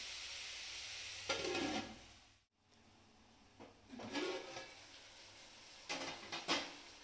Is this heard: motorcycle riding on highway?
no